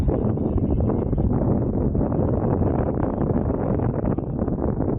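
Strong wind gusting over the microphone in high winds at an RC flying field, a loud, constant low roar buffeting throughout with no clear voices.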